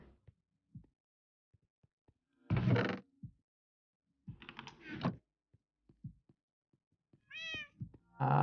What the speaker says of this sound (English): I got distracted by a cat.